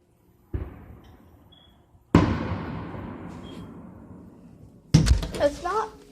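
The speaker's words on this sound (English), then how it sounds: "It's a big firework outside." Three loud booms of big fireworks go off outside, each a sharp bang followed by a long fading rumble, with a person talking after the last one.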